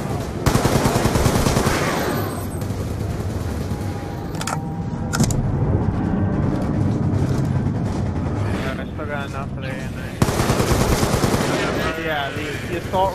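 Rapid bursts of assault rifle fire in the Black Ops 2 Die Rise zombies map, loud and continuous with sharp onsets, mixed with other game sounds and players talking over it.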